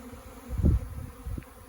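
Honey bees from a newly installed package hive buzz in soft swells, with a louder burst in the middle and another brief rise near the end over a faint background hum.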